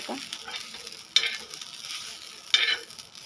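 Food roasting in a drizzle of ghee in a pan: a soft continuous sizzle broken by two sharp scraping stirs, close by, with no talking.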